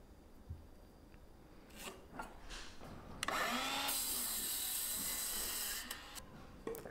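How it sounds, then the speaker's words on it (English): Wooden boards for a pull-up bar are cut to length, with faint scraping and rubbing noises leading into a single sustained, raspy cutting burst up close before it tapers off. "I'm going to make a mark and cut two boards at 3 feet"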